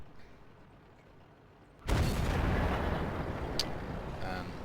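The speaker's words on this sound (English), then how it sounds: "Unfortunately, I will waste a shot here." A tank cannon fires in World of Tanks, a single loud, close blast that cuts in suddenly out of quiet background hum and leaves a long rumbling decay.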